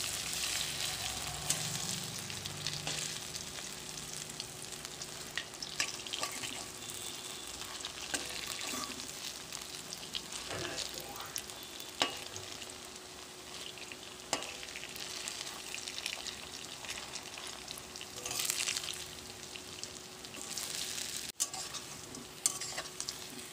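Jute leaf and potato pakoras fry steadily in hot oil, giving a dense, continuous sizzle with occasional stirring clicks throughout, close and alone with no voices.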